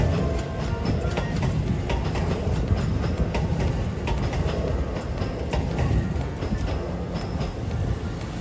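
A Shin-Keisei commuter train pulls away from platform 2 of a station with a continuous loud rumble and rattling clatter of wheels and carriages, heard close throughout.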